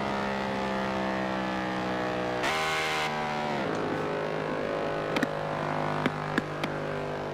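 Standard engine of an Audi in Forza Horizon 4, a steady, droning, harmonic car engine note whose pitch shifts briefly in the middle, with a few sharp clicks toward the end and no talking.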